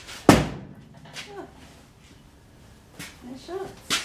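A door on a 1957 Chevy swings shut with one sharp, loud slam near the start, followed by quieter handling knocks and another thump at the end, with brief talk in between.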